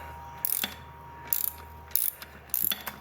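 Hand ratchet loosening bolts on a Can Am Spyder RT Limited motorcycle, four short bursts of sharp clicking ratchet strokes, close and loud against a quiet background hum.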